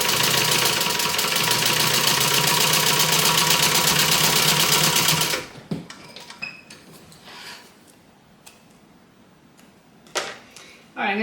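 A sewing machine runs steadily and loudly, stitching across the top of a bag through two layers of cotton and woven fuse, then stops abruptly, followed by quieter handling clicks and rustles.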